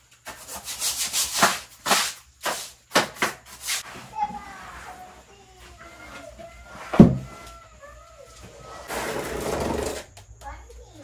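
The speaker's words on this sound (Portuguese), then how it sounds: "Vou esfregar mesmo assim." A surface is scrubbed by hand with very little water, in rhythmic rubbing strokes that come in bursts, at times loud and close, with voices, including children's, faintly in the background.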